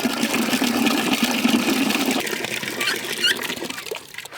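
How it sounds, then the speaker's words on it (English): Hot water runs into a milk machine for sanitizing, a steady rushing hiss that thins out partway through, with a few small squeaks near the end. "fill it up with hot water"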